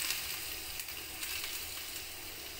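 Ginger sizzling in hot oil while tempering for a Kerala moru curry (spiced buttermilk curry), a steady close crackling hiss with small pops, no voices.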